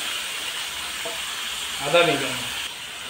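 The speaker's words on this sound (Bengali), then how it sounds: "রসুন থেকে খুব ভালো একটা ফ্লেভার চলে আসলেই আমরা এখানে অ্যাড করবো ম্যারিনেট করা মাংসটা।" Marinated mutton hits garlic-flavoured oil in a wok, giving a steady close sizzle that swells briefly near the middle as the meat goes in, with a short voice-like sound.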